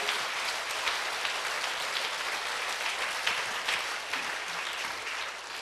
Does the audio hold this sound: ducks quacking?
no